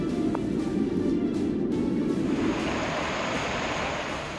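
Rushing floodwater surges through overflowing drains and the swollen Chandrabhaga river in Rishikesh, Uttarakhand, after heavy rain, a loud, steady roar of churning water close by with no letup.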